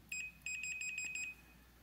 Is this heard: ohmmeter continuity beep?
yes